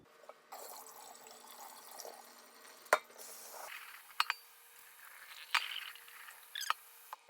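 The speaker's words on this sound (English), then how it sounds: "we're gonna go ahead and put the water in the pot with the noodles" Water runs from a kitchen tap into a pot of noodles, a soft steady trickle broken by a few sharp clinks of metal, close and quiet.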